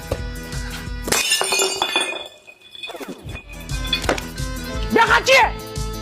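A glass jam jar clinks and then shatters with a sharp crash, followed by scattered tinkling of fragments and more clinking, with a voice briefly audible.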